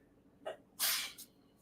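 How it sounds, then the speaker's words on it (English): One close sneeze: a quick sharp intake, then a loud explosive burst and a brief trailing puff, in an otherwise quiet room. "You're sneezing."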